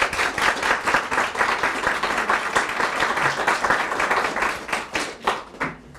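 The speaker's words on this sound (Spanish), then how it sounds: "Quisiera un aplauso, por favor." Seminar audience applauding a speaker at a psychoanalysis event, dense sustained clapping from many hands that fills the room, then thins out and fades at the end.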